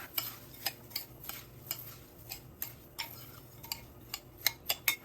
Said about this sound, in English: So here goes my breadcrumbs and my butter. You're gonna mix that.